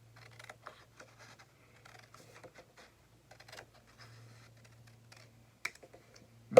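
Scissors cut along paper for a crawfish craft, a faint scattering of small, irregular snips and crisp clicks close by in a quiet room.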